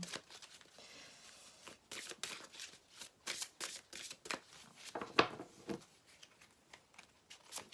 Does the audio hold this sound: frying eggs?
no